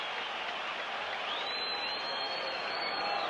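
A 1979 baseball stadium crowd at a Yankees–Royals game applauding, a broad, steady roar of distant clapping and cheering on an old broadcast, with a faint thin tone running through it.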